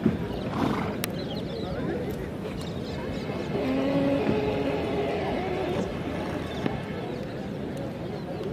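Marwari horses gathered at a numbered horse show or sale neigh amid a crowd while hooves clip-clop, with someone shouting instructions over steady background chatter.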